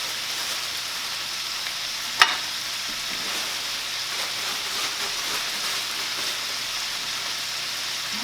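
Tortillas heat in a hot pan with a steady, even sizzle and hiss throughout, broken once by a single sharp click. No one speaks.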